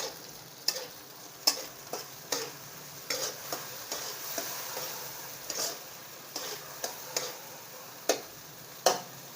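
Masala paste sautés in oil with a continuous gentle sizzle, interrupted every second or so by sharp taps and scrapes of a spoon against the pan, close and steady throughout; no voices.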